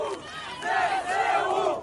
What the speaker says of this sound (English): the crowd chanted for the military